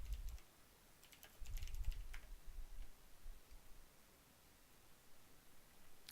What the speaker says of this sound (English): let's type Castle Guard